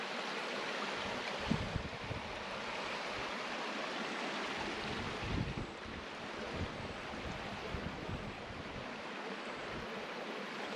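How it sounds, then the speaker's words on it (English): A waterfall flows on Moreton Island, a steady broadband rush of water that holds constant for the whole stretch at moderate loudness, with no talk over it. "that's the top of the waterfall there"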